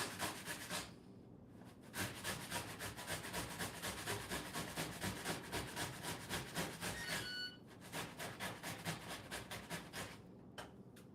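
A cucumber rubbed against a hand grater in rapid back-and-forth strokes, a steady close rasping that runs nearly nonstop with two brief pauses, no talking over it.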